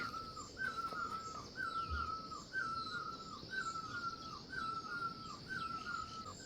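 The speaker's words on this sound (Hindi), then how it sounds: "चिड़िया की चहचहाट आ रही है भाई चारों तरफ से" Birds call all around after rain in a quiet rural setting, a steady repeating series of chirps about once a second with a distant crow-like caw, faint and unaccompanied by talk.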